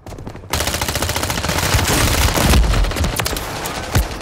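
Dense gunfire in the Call of Duty video game, with rapid automatic bursts hitting the player after a brief quiet start, loud and sustained throughout with a few sharper heavy shots near the end.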